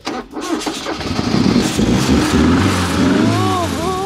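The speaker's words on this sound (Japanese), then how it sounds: "エンジンの音って聞かせてもらえたりしますか" A carbureted Toyota Corona Mark II, a classic car more than fifty years old, cranks and fires up in its open engine bay, settling into a loud, steady idle with a few rev swells.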